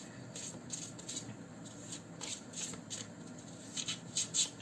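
Tarot cards being shuffled quickly by hand in a quiet room, giving soft repeated riffling and slapping bursts that grow a little louder toward the end.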